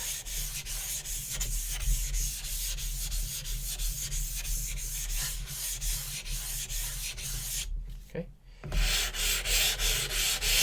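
A Zwilling chef knife stroked across a Japanese whetstone, a steady gritty scraping rub repeated in even strokes, close and continuous with a brief pause near the end.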